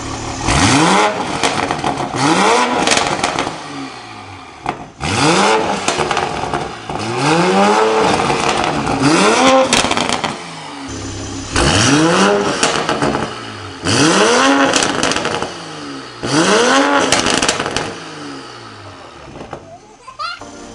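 A 2020 Toyota Supra with an aftermarket downpipe, in sport mode, revs hard several times in bursts, each sweep rising and falling, with a sharp crackling exhaust note between pulls.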